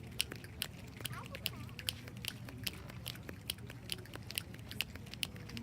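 A large crowd at an outdoor Relay for Life luminary ceremony in Hollister, California snaps their fingers together, creating a steady, dense patter of sharp clicks like rainfall that continues evenly throughout.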